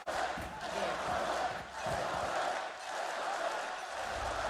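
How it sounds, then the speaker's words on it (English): A large esports arena crowd at a Valorant Masters match roars and cheers in a loud, continuous wash of voices that swells and dips. "The crowd want to see it."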